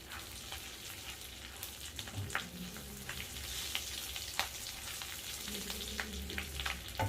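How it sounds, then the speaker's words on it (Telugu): Cumin seeds frying in hot oil for a paneer masala curry, a steady close crackling sizzle with sharp pops scattered throughout, no talking. "జీలకర్ర అండి 1 స్పూను, కొంచెం ఫ్రై అయితే"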